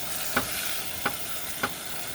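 Pork frying with kimchi and spicy sauce at a snowy winter campsite gives a soft steady sizzle. Three quick scraping stirs punctuate it at even intervals.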